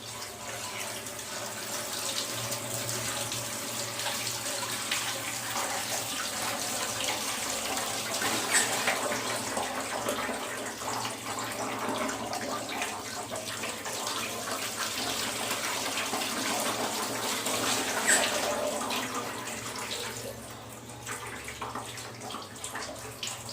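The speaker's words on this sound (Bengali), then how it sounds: "ছানা কিন্তু খুব ভালো করে ওয়াশ করতে হবে" Tap water runs steadily over chhana (cottage cheese) being rinsed in a sink, a continuous close splashing gush that swells slightly around the middle and eases off near the end, with no voices.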